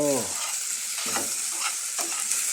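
A spoon stirs brinjal curry in a pan over a steady frying sizzle, with a few scraping strokes against the pan.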